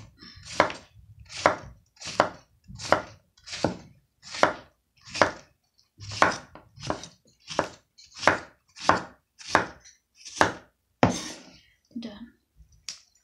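A knife chops zucchini on a cutting board in a steady series of about fourteen crisp, close thuds, evenly spaced and clear, with a brief pause partway through.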